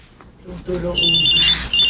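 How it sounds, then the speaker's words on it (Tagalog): Cellphone ringing inside a bag in a Filipino radio drama, a steady high electronic ring tone repeating under a voice. "Hindi pa rin humihinto ang pag-ring."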